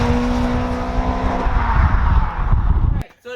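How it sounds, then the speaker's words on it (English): A 2000 Toyota Celica GTS is driven hard into a corner, its loud engine droning steadily before easing off, then cutting out abruptly near the end. "Chucking into corner there."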